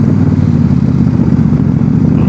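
Motorcycles ride slowly through thick fog on a group bike ride, a steady close engine drone with a low rumble that holds even throughout, no talking.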